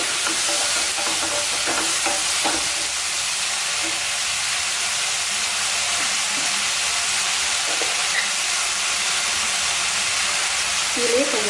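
Ingredients sautéing in a pan for Chettinad prawn curry, giving a continuous dense sizzle and hiss throughout, with occasional stirring scrapes close by.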